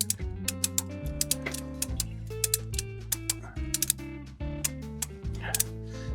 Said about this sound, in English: Now we'll engage our strap, start ratcheting down.